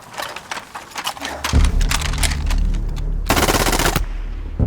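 Bursts of automatic machine gun fire from a scene in a Korean drama where soldiers fire on a crashed alien sphere in a bean field, with a loud sustained rattling volley late in the clip over a heavy low rumble.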